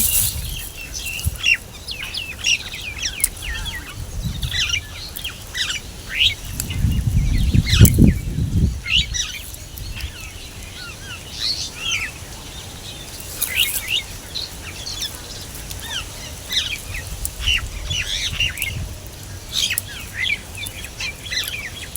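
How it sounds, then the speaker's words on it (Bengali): Birds in village trees beside a peanut field keep up a busy stream of chirps and tweets, some near and some farther off, with a stretch of wing flutter and rustling partway through and no talking. "তাই ওরা কিচির কিচির করছে"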